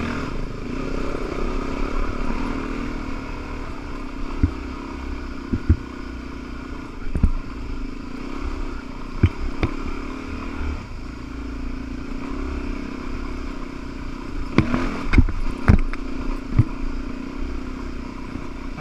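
A vehicle engine is revved in second gear at Hurricane Creek as its wheels spin briefly, giving a steady, moderately loud drone with scattered clatter and knocks for nearly twenty seconds.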